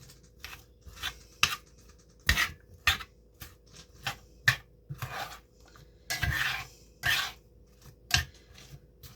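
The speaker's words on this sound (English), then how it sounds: "Just mix it around." A utensil stirring a chunky mushroom and onion mixture in a bowl, irregular scraping and clinking strokes close by, loud then quiet, with no talk.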